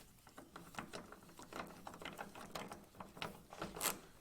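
A socket ratchet tightens a headlight assembly bolt on a Ford F150, giving quiet, rapid clicking bursts in an uneven rhythm, close but faint.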